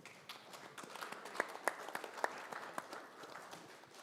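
An assembly audience applauds staff who helped keep everyone safe during an emergency. Faint, distant applause with a few sharper claps near the middle gradually tapers off, with some murmur underneath.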